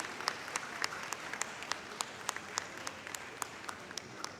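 Audience applause for Rizwan Jafar at a leadership and IT students' event with the Sindh governor, faint and distant, a steady wash of clapping with distinct sharp claps standing out.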